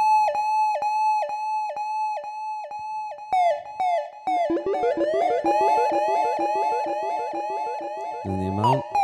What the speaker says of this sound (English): that's your basic dub siren.